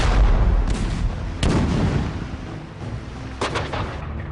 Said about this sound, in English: Only 8 days after the Declaration of Independence, the British answer with a barrage only the world's most powerful empire could muster.